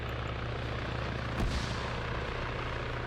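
Steady, loud rotor drone of a helicopter in Arma 3 during a night raid, continuous and close with a brief swell midway, no voices.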